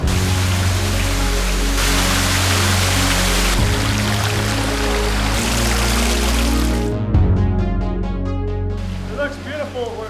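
Water from a large backyard pool waterfall and cave in Orlando pours in a steady, loud rushing wash that shifts level in steps, with a voice and musical tones running alongside.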